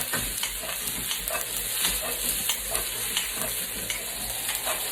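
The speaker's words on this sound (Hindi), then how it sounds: "वेजिटेबल को अच्छी तरह से इसके अंदर फ्राई कर लेना है" Vegetables fry in a pan, a steady close sizzle with scattered stirring scrapes and clatters throughout, no voices.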